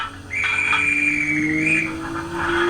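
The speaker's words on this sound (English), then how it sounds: "you get the guard's whistle" A guard's whistle from a DCC sound-fitted OO gauge Rapido S160 model locomotive sounds as a sustained shrill tone with slight warble, lasting most of the short clip over a low steady engine hum.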